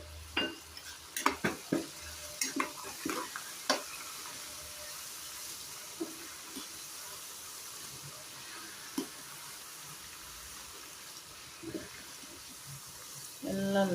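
Chilies, cumin and curry leaves fry in a pan over a low flame for a South Indian puliogre, a soft continuous sizzle with scattered stirring clinks and taps, fairly quiet throughout.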